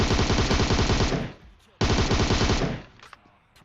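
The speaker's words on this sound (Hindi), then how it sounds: "अब गोलियां इधर तोड़ फोड़ के चल रही है" Automatic gunfire in PUBG Mobile, two loud rapid-fire bursts with a brief gap between them, close and harsh, the second burst cutting off into a short tail.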